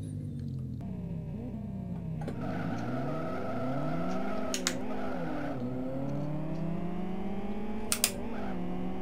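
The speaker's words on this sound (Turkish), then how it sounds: "Araba patinaja sardı benim yine ya." A Nissan Silvia S14 in the Live For Speed racing game, its engine whining and shifting pitch while the tires screech and skid in a continuous drone, with a couple of sharp clicks and no talk.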